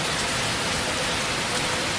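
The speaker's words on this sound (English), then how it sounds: "it's literally pouring" Heavy rain pours down outside on a rainy Fourth of July, a dense, steady hiss of rainfall that fills the space evenly with no voices over it.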